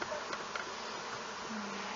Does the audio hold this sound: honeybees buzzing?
yes